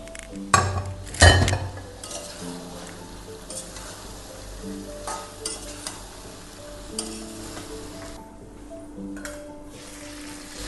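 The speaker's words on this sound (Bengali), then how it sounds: "এবার আমি চিকেনটা দিয়ে দেবো। চিকেনটা বয়েল করা আছে, চিকেনটা দিয়ে দেবো।" A kilo of boiled chicken drops into a hot pan for chicken kosha, starting with a loud sizzling burst and utensil clatter, then a steady close frying hiss with occasional stirring scrapes and clinks.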